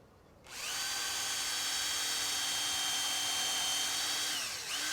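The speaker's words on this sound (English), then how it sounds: "So we position it on there, just ready to put the drill through." A power drill drilling pilot holes in wood whirs steadily at high speed for several seconds, starting abruptly and dipping briefly near the end, loud and close with no talking.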